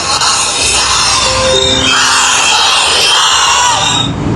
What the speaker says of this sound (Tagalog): Ayan po, napakarami po nagrarally.